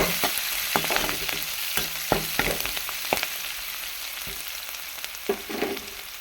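Onion, garlic and tomato sautéing with turmeric for a brinjal fry make a steady close sizzle, with sharp scrapes and clicks from stirring scattered throughout and no voice.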